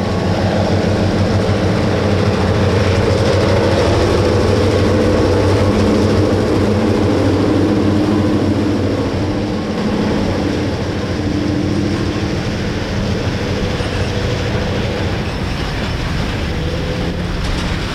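An eastbound Erie Lackawanna Phoebe Snow passenger train, pulled by three diesel units, rolls past Stateford Junction near Lanesboro, Pennsylvania, giving a steady, loud, close rumble of engines and wheels on rail that fades slightly partway through.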